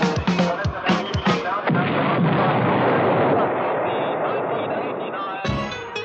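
At a 1989 ski boat festival, a starting cannon fires several sharp, loud booms in quick succession, followed by a long rolling roar and crowd noise before another burst near the end.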